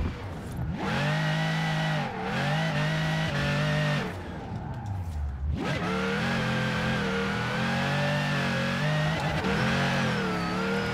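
A high-pitched Ferrari 599 engine in the video game Forza Horizon 4 revs hard and continuously, pitch climbing and falling as it accelerates, drops briefly, then roars back up; loud and close.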